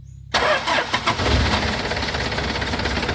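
An Isuzu NKR 110-horsepower truck diesel engine cranks and catches, then runs with a loud, rough rumble that keeps churning steadily without a break.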